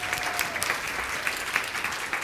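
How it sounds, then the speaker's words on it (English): Audience applause welcoming a speaker onto a stage at a science communication event, steady dense clapping from a crowd lasting throughout, fairly close and even. "Should we clap him on?"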